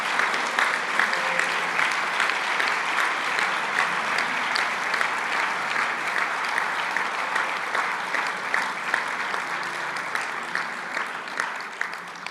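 Sustained, dense applause from a congregation at a church youth camp service, steady and even at close range throughout, with no talking.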